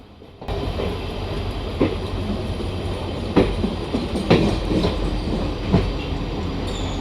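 Kottayam-Nilambur Express rolling toward Irinjalakuda platform 2 in the Railworks train simulator: a steady loud rumble of wheels on track with periodic clickety-clack joint thumps, no voices.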